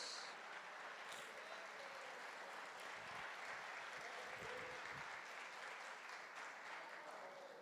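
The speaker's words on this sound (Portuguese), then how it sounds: "Você pode aplaudir a Jesus bem forte?" A church congregation claps continuously and fairly evenly for several seconds during a sermon, a dense wash of applause heard at a distance, with faint voices underneath.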